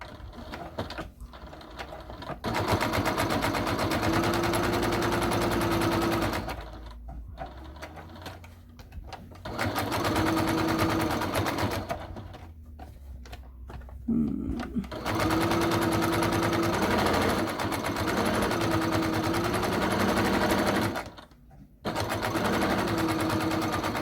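Sewing machine stitching fabric for a book sleeve, close and loud in several long bursts of rapid whirring needle clatter separated by short pauses, with brief quiet handling gaps between runs.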